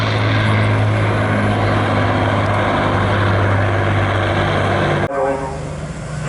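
A propeller aircraft flies a display pass at the Bournemouth Air Festival, its loud, steady droning engine roar filling the air before dropping away sharply near the end as the plane passes.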